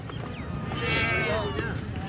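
Goats at a goat farm in Rajanpur give one drawn-out bleat over a busy background of livestock and crowd noise.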